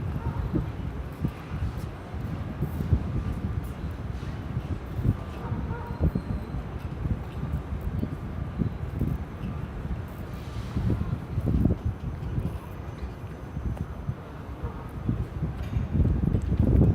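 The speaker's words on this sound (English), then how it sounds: "Ooh, it's so windy." Strong gusts buffet the microphone in a steady low rumble on the deck of the cruise ship Koningsdam, with rustling and faint movement underneath, and no clear voices.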